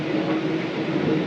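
A Mumbai local train on the Kalyan line running, a loud steady rumble and roar from inside the moving carriage, continuous with no breaks.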